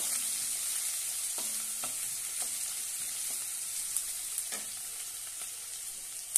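Finely chopped onion and cumin sautéing in a pan, a steady bright sizzle with occasional spatula scrapes and clicks, close and continuous with no talking.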